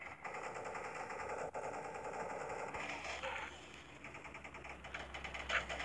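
Rapid automatic gunfire from the mobile shooter game Respawnables rattles on steadily through the clip, with a brief lull and a low rumble near the end.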